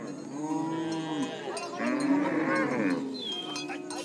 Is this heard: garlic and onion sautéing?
no